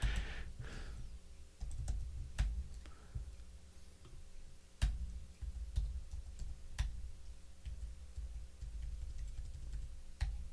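Steady typing on a computer keyboard, a continuous run of soft, close clicks and sharper taps at an uneven pace, with no voices.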